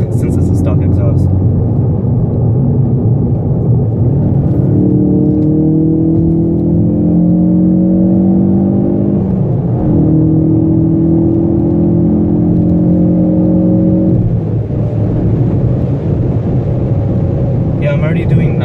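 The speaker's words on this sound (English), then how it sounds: "I'm just gonna let you hear the car, if you can hear it, since it's a stock exhaust." A stock-exhaust 2016 Ford Focus RS pulls hard at speed, its engine note rising steadily through the gears as a loud, continuous whir and drone heard from inside the cabin, with tire and wind roar underneath.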